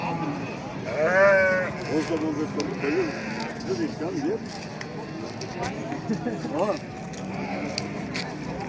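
Sheep bleat at a livestock market in Batken, several short wavering calls rising among the crowd while people talk and bargain close by.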